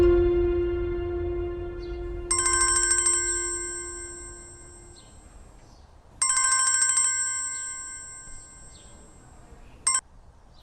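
A telephone ringtone plays in a room, three electronic bursts in a row, the first two long and the last one short, with quiet gaps between them and a low hum beneath.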